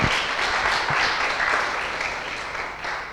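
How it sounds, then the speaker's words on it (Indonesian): A church congregation breaks into applause during a sermon, a full burst of many hands clapping that stays strong and then slowly eases. "Berikan tepuk tangan bagi Tuhan."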